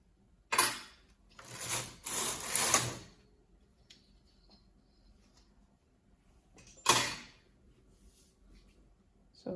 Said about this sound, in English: Now we're going to cut the yarn and take the work of the knitting machine